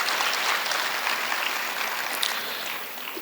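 An auditorium audience applauds to welcome a vice-chancellor, with dense, continuous clapping from many hands that holds steady and then fades slightly.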